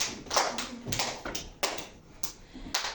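Clapping hands at a children's quiz, several sharp uneven claps close by, with no talking.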